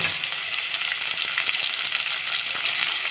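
Boiled dal frying in hot oil gives a steady, close, fairly loud crackling sizzle with fine popping throughout, with no voices.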